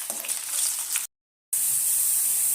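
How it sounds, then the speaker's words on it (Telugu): Mustard seeds, spices and chopped onion frying in hot oil for lemon rice, a close, steady sizzle with crackling bursts, a short silent gap, then more even sizzling with no voices. "అది పోపు వేగనివ్వాలి."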